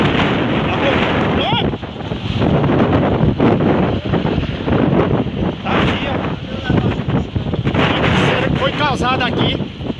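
Hurricane-force wind of about 180 km/h tearing through Arcoverde, Pernambuco, roaring loud and gusty across the whole stretch, with broadband buffeting on the microphone and voices talking underneath.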